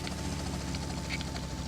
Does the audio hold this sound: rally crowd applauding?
no